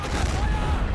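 Tank cannon fire in the World War II strategy game Men of War: Assault Squad 2, heavy booming battle noise filling the whole second with dense, continuous low rumble and no clearly separated shots.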